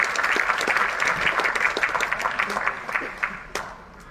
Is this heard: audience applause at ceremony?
yes